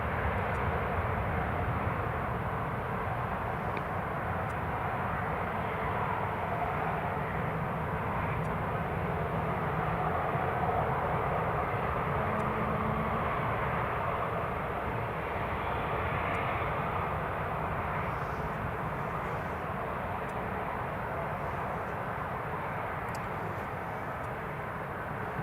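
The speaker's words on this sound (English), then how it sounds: "There's a Ryanair from Krakow just taxiing up, and we have the EasyJet just lining up now as well." Jet engines of a Ryanair and an EasyJet airliner taxiing at Newcastle International Airport on a foggy, wet day, a steady distant roar and rumble that holds for the whole stretch.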